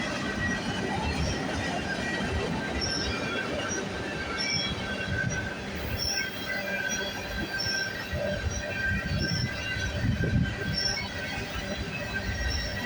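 CN freight train rolling past at Burlington West on a hot afternoon, wheels squealing steadily over a continuous loud rumble of rail cars, close by and filling the whole stretch with no talk.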